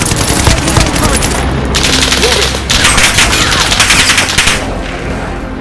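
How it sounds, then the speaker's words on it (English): Heavy gunfire and airstrike blasts in a Call of Duty Warzone Resurgence match: dense, loud bursts of automatic fire and booms that keep up for several seconds, with brief quieter gaps and a voice faintly beneath. "Allied position airstrike incoming."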